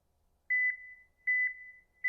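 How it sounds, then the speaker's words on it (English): Alpha TT25 beeper collar giving a triple beep: three clear, sharp electronic tones, each sounded as a quick double pulse then held, evenly spaced and alone in silence. "There's my triple beep"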